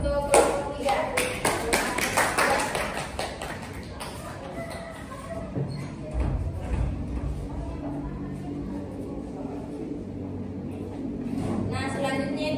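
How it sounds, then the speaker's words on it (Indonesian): A classroom audience applauds a student group after a microteaching presentation, a dense run of clapping through the first seconds that thins into scattered claps and room murmur, with voices talking underneath. "Beri aplaus untuk kelompok 3."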